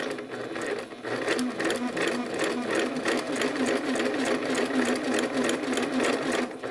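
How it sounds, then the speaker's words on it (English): A sewing machine stitching a quarter-inch seam on a quilt block whirs in a fast, even rattle, loud and near, starting after a brief dip and running steadily without speech. "So then we're just going to stitch 1/4 of an inch, and we're going to move this over to the right as we stitch."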